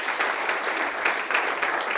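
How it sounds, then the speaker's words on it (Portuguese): Church congregation applauding strongly during a sermon, a steady dense wash of many hands clapping that carries on throughout with no pauses. "E se você crê nessa palavra, aplauda forte o nome do Senhor."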